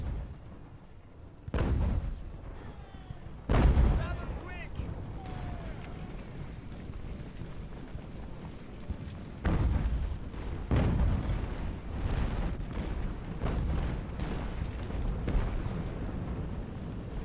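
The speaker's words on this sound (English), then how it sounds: "now I'm gonna be hitting them with their own cannons" Cannons boom in the naval battle game Ultimate Admiral Age of Sail, with several deep, heavy blasts spaced irregularly over a rumbling battle backdrop while someone talks over the action.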